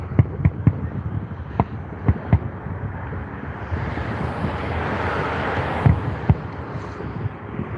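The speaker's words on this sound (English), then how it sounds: "that's a real fireworks show" Distant fireworks show seen from a car amid traffic: sharp isolated pops and crackles at irregular intervals over a broad rushing background, fairly faint and far away.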